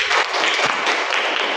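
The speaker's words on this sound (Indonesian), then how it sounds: "Oke, tepuk tangan dulu." Children clapping in a classroom during a micro-teaching lesson, a short, dense and fairly loud burst of applause with no talk over it.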